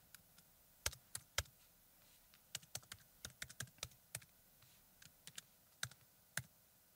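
Computer keyboard typed on while writing code, an irregular run of crisp, close key clicks in short bursts with small pauses, quiet and without talk.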